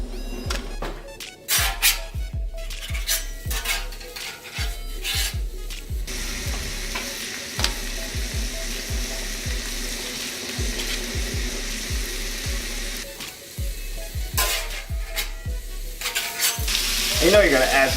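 Sausage frying on a 36 inch Blackstone griddle, a steady close sizzle with spatters and repeated scraping and tapping of a spatula on the flat top, nearly continuous throughout.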